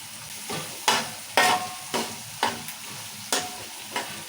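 Ingredients for a fish curry fry in oil while a spoon stirs them, sharp scraping strokes landing about every half second over a constant close sizzle.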